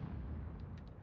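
Artillery fires in a tank video game, a heavy low boom rumbling throughout with a few faint higher clicks, loud and close, with no speech over it.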